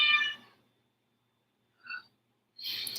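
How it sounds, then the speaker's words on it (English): A pet cat named Mittens meows indoors: a loud, close meow, a short faint chirp after a pause, then another meow starting near the end. "I don't know why she's meowing like this"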